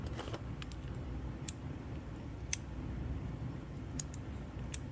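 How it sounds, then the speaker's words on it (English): A DURATECH 90-tooth ratchet is flicked through its direction changes, giving a few sharp, crisp clicks spaced apart over a low background rumble. "These all have real nice clicky positive directional changes here."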